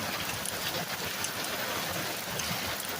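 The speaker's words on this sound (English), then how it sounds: "Hail." Hail falls during a sudden storm with a sharp temperature drop, a dense, steady patter with occasional sharper ticks that continues without a break and no voices.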